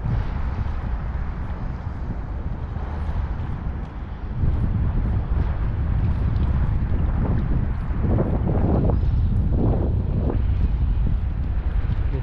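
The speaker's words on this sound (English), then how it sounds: "The wind is starting to pick up quite a bit" Wind gusts across Durban harbour during a fishing outing, a loud, close rumble buffeting the microphone and growing stronger in the second half.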